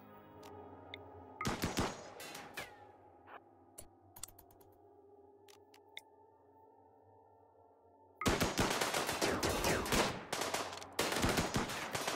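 Gunfire from a soldier in the RimWorld video game: a short rattling burst early on, then a quiet stretch of faint game ambience, and finally loud, sustained rapid automatic fire with brief gaps.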